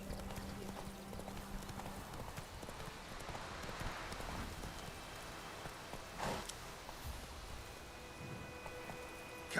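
Roach, Geralt's horse in The Witcher 3, plods steadily with a regular clip-clop of hooves on a road, fairly close, over a low in-game background hum.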